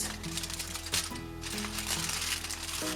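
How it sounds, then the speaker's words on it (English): Tin foil crumpled and shaped into a round ball by hand for a foil doll, with soft crinkling and crackling bursts close up over a steady background hum. "we need to kind of crumple it so it's a circle"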